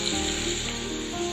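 Brinjal pieces sautéing in a pan over medium heat make a steady, close sizzle, with continuous frying hiss and no voices.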